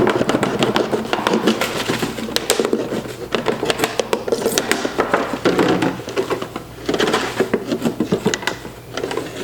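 Scissors or a blade cutting through a plastic milk jug, rapid crinkly snips and crackles of stiff plastic up close, coming in short runs with brief pauses.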